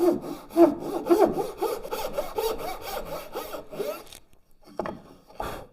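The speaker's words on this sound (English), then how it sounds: "for the two outside cuts I use the dovetail saw" A dovetail saw cuts into wood for a halving joint with a run of rhythmic back-and-forth strokes, close and crisp, then stops briefly before a couple of final light rasps.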